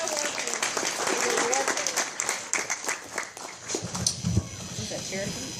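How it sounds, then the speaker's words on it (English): A wedding crowd claps and cheers in sustained applause, which thins out near the end as a few voices come through. "Can we get an applause for these beautiful ladies"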